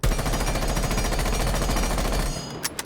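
Rapid automatic gunfire from a weapon fitted with an extended barrel in Rainbow Six Siege, a loud continuous burst of evenly spaced shots that stops near the end, followed by a few clinks.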